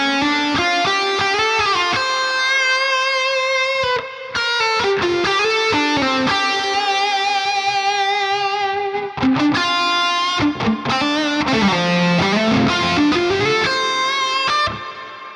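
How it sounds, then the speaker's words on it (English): An electric guitar played through an AmpKnob amp plugin is set to a massive reverb, loud sustained chords and notes with long washy tails that ring on for several seconds, heard alone with no talk. "so we can make that reverb massive."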